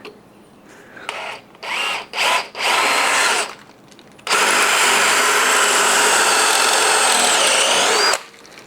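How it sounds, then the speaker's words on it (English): A drill bit bores out the rubber bushing of a rusty rear leaf spring shackle on a 1976 Jeep CJ-5: several short whirring bursts, then one long, loud, steady grind close by. "So one method is to take a drill bit and drill out the rubber."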